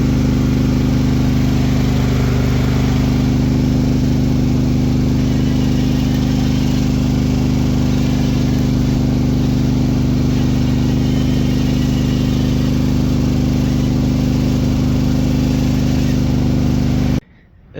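A homemade forklift lawn mower's engine runs loudly and steadily up close, a constant droning rumble that continues until it cuts off abruptly at the end.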